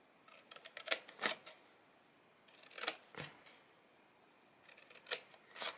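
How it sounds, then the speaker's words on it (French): Scissors cutting paper squares for Easter and spring decorations: three quiet clusters of close snips and crisp paper crunches, separated by pauses of near silence. "Vous allez couper les carrés qui sont en bas."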